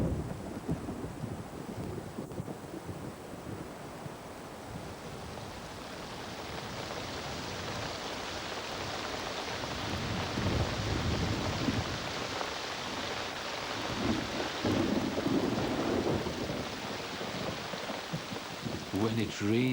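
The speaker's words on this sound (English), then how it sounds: "When it rains in the desert, it really rains." Heavy monsoon rain pours steadily while deep thunder rumbles and rolls, the downpour building in intensity toward the middle and staying loud.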